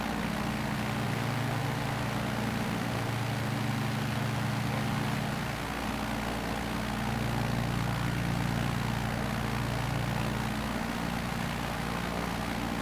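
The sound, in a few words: bush plane engine in flight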